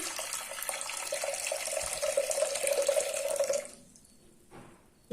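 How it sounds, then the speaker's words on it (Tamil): Water pours steadily into a metal cooker of cowpeas for a few seconds, then stops, leaving faint drips and small clinks. "இப்போ நான் தண்ணி ஊற்றுறேன் தண்ணி கொஞ்சம் நிறையாவே ஊற்றிக்கலாம்"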